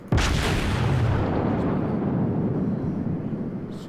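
Warship guns fire in the World of Warships video game, a single heavy booming blast that hits suddenly and rolls into a long, loud rumbling decay.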